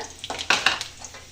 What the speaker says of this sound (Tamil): மூணு வற்றல் மிளகாய் கிள்ளி வச்சுருக்கேன் அதை போட்டுக்கோங்க